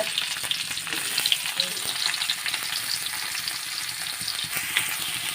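Onion and green chilli frying in oil in a pan, a close, continuous bright sizzle and crackle with occasional stirring clicks, steady throughout with no talk.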